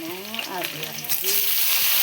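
Potatoes hit a hot pan with cumin, dried chilli and onion already in it, then are stirred. The sizzle swells and settles into a loud, steady frying hiss, with a few clinks of stirring early on and no talk.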